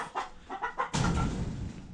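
Chickens clucking outdoors near a leaking hose fitting, a few short separate calls up close, followed by a louder, denser stretch of fowl noise.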